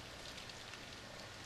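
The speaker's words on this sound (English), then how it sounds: "Outside, raining today." Steady, soft hiss of rain falling, an even wash of noise with no voices.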